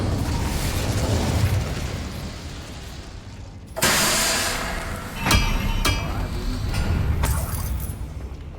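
A fire spell erupts in the wizarding game Hogwarts Legacy with a sudden loud whooshing burst of flame, followed by a few sharp cracking pops and a sustained roaring rumble.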